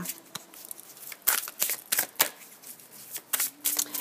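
Light Seers Tarot cards are drawn from the deck, producing close, crisp papery flicks and riffling snaps in an irregular sequence.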